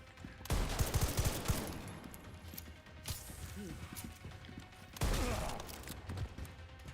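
Gunfire bursts in the Resident Evil Requiem video game on Insanity Mode, loud volleys near the start and again past the midpoint with quieter shots between, under game noise and voices talking.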